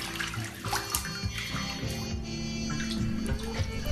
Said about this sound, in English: my water's getting chilly and my fingers are all pruny, so I'm gonna drain my water here